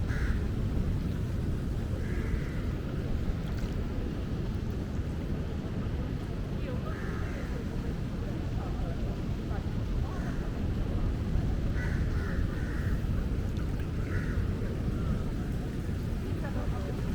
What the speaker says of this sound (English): And obviously the surrounded by crows video as well.